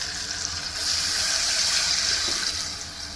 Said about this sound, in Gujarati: હવે એની અંદર નાખી લઈશું 1 ગ્લાસ છાશ